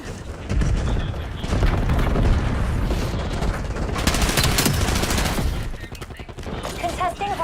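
Video game battle with cluster grenade explosions and a rolling fusillade of gunfire, loud and dense throughout, with bursts of automatic fire and booms; a voice may be present underneath.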